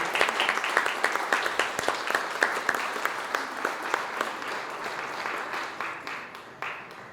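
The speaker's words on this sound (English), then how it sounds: "raise their hand and clap like crazy" An audience at a community center grand opening claps enthusiastically for Parks and Rec staff: dense, sharp, rapid hand claps that stay lively, then gradually thin and fade toward the end.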